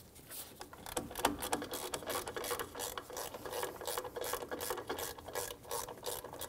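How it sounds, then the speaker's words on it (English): A ratchet driving a 10 mm socket to remove short bolts from the rear brake area of a 1996-2006 Jeep Wrangler clicks in quick, steady bursts, close and fairly quiet, with no talking. "I'm going to get my socket first, 10 millimeter or 3/8 socket, and we're going to dismount our two bolts."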